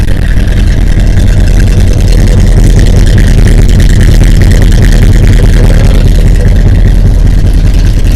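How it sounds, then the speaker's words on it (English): A 1976 Ford F150 with an HEI distributor, 3-inch exhaust, Flowmaster 40 mufflers and a bad exhaust leak idles loud and close, a continuous rough, throbbing rumble with no talking over it. "Terrible exhaust leak on this side."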